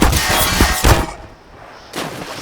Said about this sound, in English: I got shot by the government